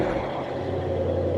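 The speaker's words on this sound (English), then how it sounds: "And you can hear the car starting up." Deep, steady rumble of a Mercedes-AMG GT63 biturbo V8 just after startup, loud and close, holding a low droning tone throughout with no voices.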